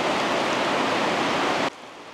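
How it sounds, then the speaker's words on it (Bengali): Heavy rain pouring on a small island makes a dense, even hiss that stops abruptly near the end, leaving a quieter background. "আমি ওয়েট করতেছি কখন বৃষ্টি কমে।"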